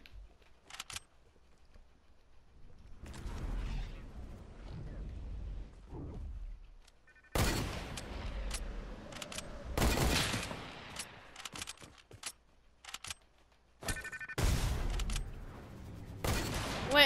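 Bursts of gunfire from a video game, with sharp loud volleys and rapid shots clustered in short bursts separated by quieter gaps, plus some mechanical clicks.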